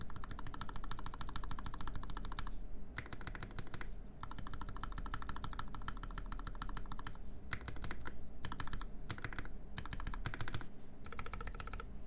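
Rapid, clacky mechanical keyboard typing in close, steady bursts, with brief pauses between runs of keystrokes, on an IRON165 keyboard whose Enter key is slightly scratchy.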